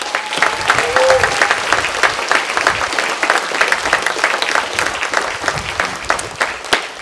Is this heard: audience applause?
yes